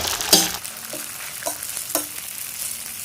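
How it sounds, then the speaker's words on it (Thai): Pad thai noodles stir-fried in a hot pan give a steady sizzle, broken by a few sharp scraping stirs at regular intervals, close and moderately loud with no voices. "เมื่อผัดจนเข้าที่ดีแล้วก็ใส่เส้นผัดไทย กระจายกระจายหน่อยนะครับ พี่น้องใส่ แล้วก็ผัดให้ทั่ว"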